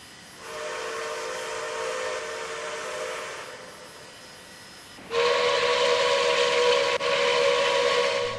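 A steam whistle on a K&L Trainz Milwaukee Road S-3 model train sounds two long chimed blasts, the second louder and brighter, each held steadily with no voices.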